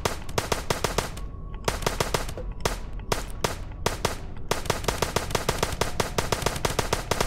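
Rapid automatic gunfire in the video game Starbound: loud, tightly spaced bursts of shots with brief pauses between volleys, dense and continuous across the stretch.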